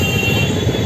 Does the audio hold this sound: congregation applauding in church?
no